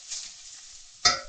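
Soft sizzling of colocasia roasting in a pan, a steady faint hiss broken near the end by a louder scrape of stirring.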